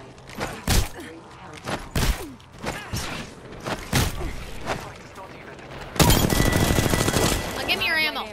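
Gunfire in the Apex Legends video game: sharp single shots spaced about a second apart, then a dense burst of rapid automatic fire, with a voice talking over parts of it.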